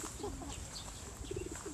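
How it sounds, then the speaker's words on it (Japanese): Pigeons cooing softly in a green park in daytime, faint low murmuring calls scattered through light background noise. "ハトさん、こんにちは。"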